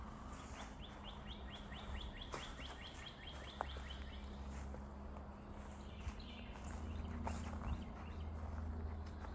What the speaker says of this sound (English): The birds are singing and it's quiet.